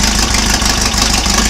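A tested engine idles steadily on a test stand after running a short while, a loud, even low rumble with a faint regular knock pulsing underneath and no one speaking.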